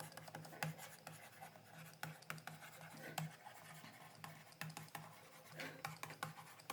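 Chalk or marker writing a long formula on a board: soft, continuous scratchy strokes with small taps, quiet and fairly close, with faint background noise.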